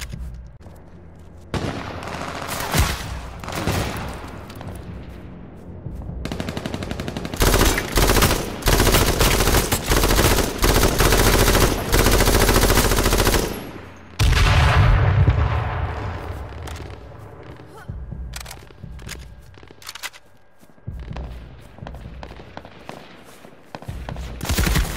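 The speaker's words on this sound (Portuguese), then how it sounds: "uns poucos tiros" Rapid automatic gunfire and shots in a free-for-all video game match come in loud bursts separated by short quiet gaps, close and harsh, with no talk over them.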